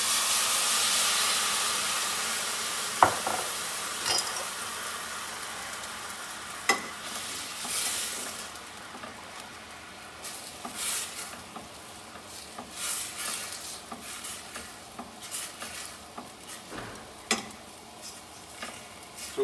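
Balsamic vinegar hitting a hot pan to deglaze steak makes a loud hiss that gradually quiets into a softer, steady sizzle, with occasional clinks and scrapes of a utensil stirring in the pan.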